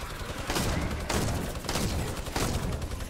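Bursts of Fortnite gunfire laying down suppressing fire, several loud rapid volleys spaced about half a second apart, close and continuous with no talk.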